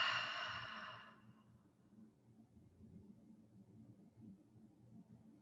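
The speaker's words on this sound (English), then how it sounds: "with an open mouth, you can exhale" A person exhales through an open mouth in a single breathy rush that fades after about a second, followed by quiet low room noise.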